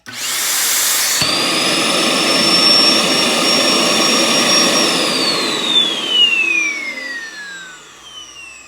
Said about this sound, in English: it's gonna get really loud for a minute here. So here's the loud vacuum.